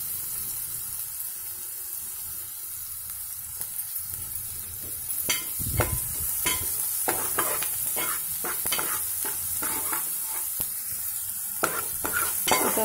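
Egg masala base with onions fries in a pan, a steady soft sizzle broken by a series of scraping, clattering stirs with a spoon, close and moderately quiet, no talking.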